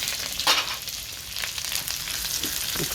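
Garlic and onion sauté in a pan for ginisang beans with pork, a steady close sizzle broken by a few brief bursts as the pieces are stirred, with no talking.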